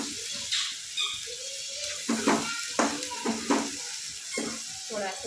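Coconut and garlic paste sautéing in oil, a constant sizzling hiss broken by several sharp scraping stirs of a spoon against the pan, fairly close, with no voices.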